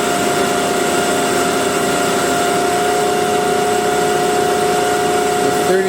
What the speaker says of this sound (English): I hear a whine from the motor, but that's just normal, I'm pretty sure